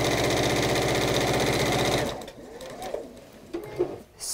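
Sewing machine stitching a fidget quilt, a fast steady mechanical chatter for about two seconds, then stopping, leaving quiet handling noises and faint movement.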